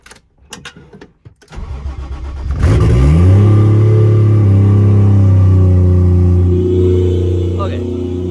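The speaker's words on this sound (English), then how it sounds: "So obviously the car is really freaking loud. There's no exhaust on it still." A 1JZ-swapped Nissan 240SX with no exhaust fitted starts up with a rough crank, then settles into a loud, steady idle punctuated by brief revs. It is close and dominant, and a voice is briefly audible in the background.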